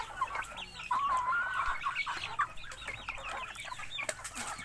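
Free-range native chickens cluck and chatter steadily at feeding time on a Philippine farm, several birds close by with overlapping calls and a brief higher crowing note, with no talk over them.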